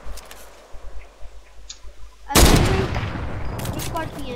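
Fortnite gunfire breaks out suddenly partway through: a loud, dense burst of rapid shots that keeps rattling to the end, after a stretch of quieter game sounds and faint chatter.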